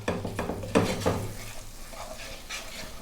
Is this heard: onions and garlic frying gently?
yes